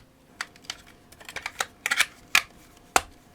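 Keys clack on a Commodore 64 keyboard, about a dozen separate presses in an uneven rhythm. Sharp, close taps stand out above a quiet background, and some land in quick pairs.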